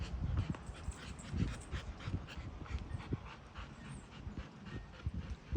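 Puppies whimper and pant close by in a continuous, busy stream of small yips and soft whines.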